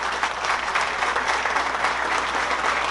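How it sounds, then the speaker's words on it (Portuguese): An audience at the São Paulo state legislature claps for a group of deputies, producing a thick, sustained round of applause at even volume from start to finish. "eu queria pedir uma grande salva de palmas para esses deputados"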